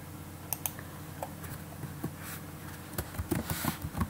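Typing of copy and paste shortcuts on a computer keyboard, light irregular key clicks close by in a quiet room.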